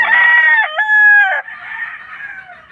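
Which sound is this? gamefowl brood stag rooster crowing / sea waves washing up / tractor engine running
gamefowl brood stag rooster crowing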